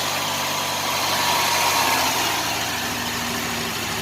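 A 1989 Chevy Celebrity engine idles roughly and misfires, with a steady low rumble and uneven, stumbling pulses throughout, close and continuous.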